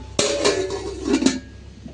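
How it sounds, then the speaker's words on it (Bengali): A lid is set down on a cooking pot holding a spiced curry mix with ginger-garlic paste in a home kitchen, giving a sharp metallic clack, then a second knock about a second later, with no talking. "এখন ঢাকনা দিয়ে ঢেকে দিই"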